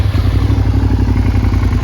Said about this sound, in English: Sounds great with the V-twin rumble